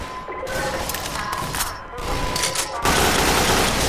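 AK-47 gunfire from the Garry's Mod video game comes in rapid, dense bursts, loud and continuous under a noisy game mix.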